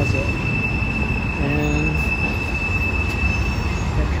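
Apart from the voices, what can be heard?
train passing, echoing in Dealey Plaza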